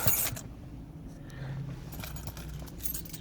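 Car keys jangle in a few brief metallic bursts at a car wash, close and fairly quiet against a low steady background rumble.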